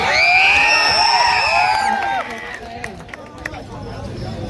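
A crowd at an outdoor stage show cheers and whistles loudly with shouts and whoops, the excited uproar dropping off after a couple of seconds into scattered hubbub and clapping.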